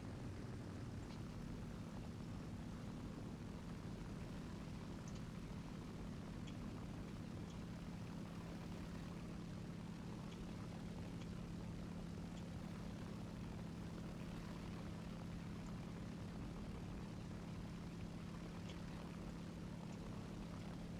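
Propeller dive bomber engine droning in War Thunder, a steady, continuous loud hum with a constant low pitch and buzzing harmonics throughout, unchanging in rhythm and heard alone.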